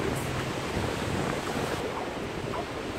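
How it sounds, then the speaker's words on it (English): Ocean waves wash up a shore in a steady, close surge, with wind buffeting the microphone throughout. "Oh, the water's coming up a fair distance."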